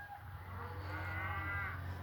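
A cow moos once, a drawn-out lowing call rising and falling over a constant low rumble, as cattle are driven through a small Southern Alberta town.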